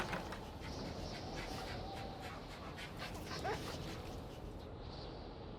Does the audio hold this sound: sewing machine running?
no